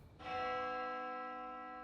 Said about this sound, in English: The bell again.